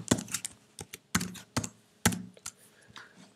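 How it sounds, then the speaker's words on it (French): Typing on a computer keyboard: a quick, irregular run of close, crisp key taps and thunks with short pauses, heard alone without speech. "le curseur clignote et je tape par exemple un texte."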